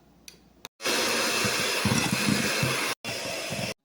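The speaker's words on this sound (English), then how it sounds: "then I'm gonna take my hand mixer and mix this all together" A hand mixer whirs through a creamy cheese topping in bursts, a steady close buzzing motor sound that cuts out briefly near the end and starts again.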